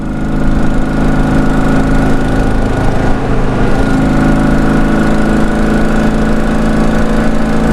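A motorcycle engine with a poorly tuned carburetor bogs at full throttle, droning loudly and steadily up close with a rough, strained tone that barely climbs.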